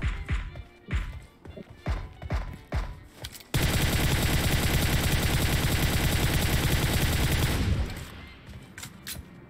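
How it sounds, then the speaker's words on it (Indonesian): Gunfire in PUBG Mobile, first a string of separate sharp shots, then a loud sustained burst of rapid automatic fire lasting several seconds before sparse shots resume. "Oh, dia nembak dari jauh."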